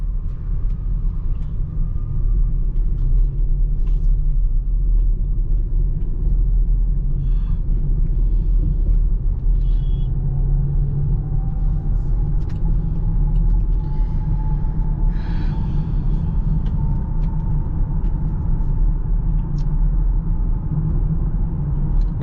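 Range Rover SV with a 4.4 L V8 accelerating on a highway toward 100, a loud steady low engine and road rumble with a slowly rising tone, no talking.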